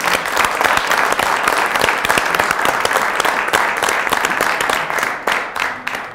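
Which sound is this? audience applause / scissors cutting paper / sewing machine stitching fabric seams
audience applause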